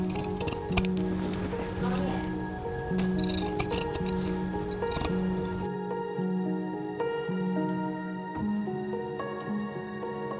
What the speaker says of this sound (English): you can just trim it with your scissors